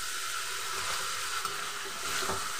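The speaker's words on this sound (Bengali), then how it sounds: "টমেটোটা দিয়ে ভালো করে কষিয়ে নেব।" Tomato and green chili frying in spices in a pan produce a steady, close sizzle with a soft hiss throughout, with faint stirring scrapes and no talk.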